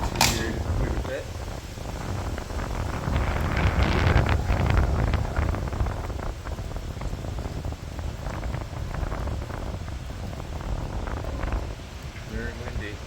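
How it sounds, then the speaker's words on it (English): Strong gusty wind during a morning thunderstorm in Valparaiso, Indiana, roars across the microphone in a constant broadband rush that swells and eases in gusts, with brief voice sounds at the start and end. "Very windy."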